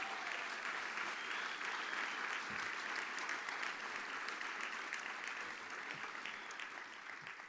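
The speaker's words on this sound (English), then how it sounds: "please help me give a big round of applause to Frederica" Sustained applause from a large crowd, dense and steady clapping that slowly tapers toward the end.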